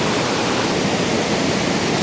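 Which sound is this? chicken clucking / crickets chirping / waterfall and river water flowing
waterfall and river water flowing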